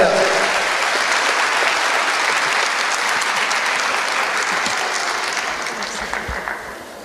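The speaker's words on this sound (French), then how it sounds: "que je vous demande d'applaudir" An audience at the 3-Handi Awards 2013 ceremony applauds the mayor of Brussels with loud, dense clapping that holds steady, then gradually thins toward the end, a few voices mixed in.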